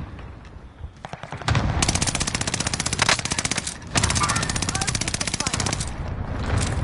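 Automatic fire from the player's gun in a video game: two long, rapid, sustained bursts, loud and close, split by a short pause, with quieter game sounds before and after.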